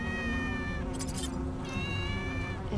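A cat in the video game Tales of the Neon Sea gives a clear, close meow that rises and falls over steady background game music.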